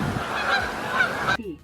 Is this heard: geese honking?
yes